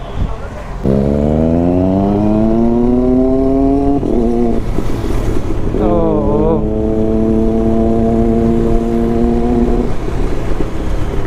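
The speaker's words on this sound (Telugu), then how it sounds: "గైస్ ఎట్లా అనిపించింది బైక్ సౌండ్ వచ్చి?" A Triumph Daytona motorcycle engine revs loudly up close, its rising whistling whine climbing twice in long sweeps, broken by a short gap with a brief gear-change burst before the second pull.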